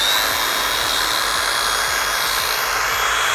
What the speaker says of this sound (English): I like to use my grinder here